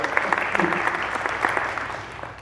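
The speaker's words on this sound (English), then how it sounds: "Let's give our tech people a big round of applause right in advance" Audience clapping for the technical crew at a foundation training session, a moderate, slightly uneven patter of hands that tapers off toward the end.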